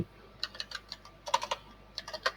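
Close, quiet typing on a computer keyboard while entering spreadsheet headings, several short bursts of rapid key clicks separated by brief pauses.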